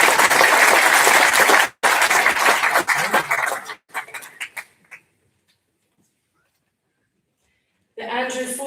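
A school prize-giving audience applauds the winner of the best debater trophy with loud, dense clapping that falls away into silence before a voice starts speaking again.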